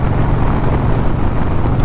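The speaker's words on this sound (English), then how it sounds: "oh, it's windy today" Heavy, steady wind buffets a microphone while riding a Harley motorcycle, a loud continuous low roar with no speech over it.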